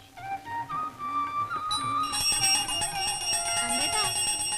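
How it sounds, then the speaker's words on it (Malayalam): A temple bell at a shrine to the goddess Mookambika rings repeatedly, its bright metallic clangs swelling and growing denser over sliding musical tones. "ഒരുപാട് മണിയടിക്കണ്ട, സമയം എത്രയായിന്നറിയോ?"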